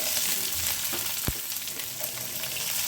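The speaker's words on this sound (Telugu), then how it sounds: "ఇప్పుడు దీంట్లోకి మనము కొంచెం ఎర్రగానే ఆనియన్స్ వేసుకోవాలి" Onions fry in hot oil with a dense, steady sizzle close up, broken once by a short knock against the pan.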